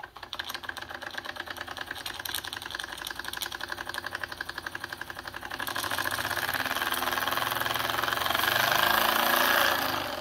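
A Wilesco D10 model steam engine, an old version, chuffs rapidly in a steady fast rhythm, growing louder and busier about halfway through as it speeds up further, close by with no talking.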